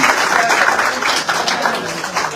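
A crowd at a live charity music program in Kozhikode claps loudly and continuously, the dense wash of many hands filling the hall without a break.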